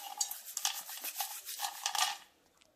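Peanuts rubbed together between the hands to peel their skins make a soft, close, rapid dry rustling and crackling that stops near the end, with no talk.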